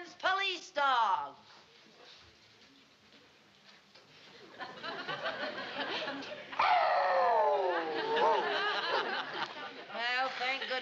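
A police dog howls in a comedy scene, long rising and falling wails repeating over several seconds, loud and close, with people chattering and laughing around it.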